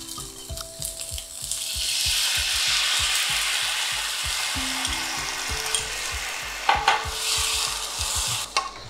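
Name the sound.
stirring fried pork in a pan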